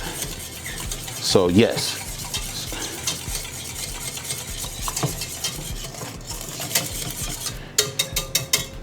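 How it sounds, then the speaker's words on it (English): A wire whisk scrapes and clinks rhythmically against a pot as chicken pot pie filling is stirred, with a soft sizzle underneath, a few sharp metallic taps, and a brief spoken remark. "I'm gonna move to a wire whisk, because that's a little bit better. It'll break up all of that."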